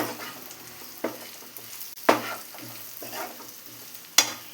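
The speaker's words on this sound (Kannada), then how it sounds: "2 ನಿಮಿಷ ಫ್ರೈ ಮಾಡಿದ್ರೆ ಸಾಕು." Onion fried in oil with turmeric, chili powder, coriander powder and garam masala: a soft steady sizzle broken by three sharp knocks of a spoon stirring against the pan, close up.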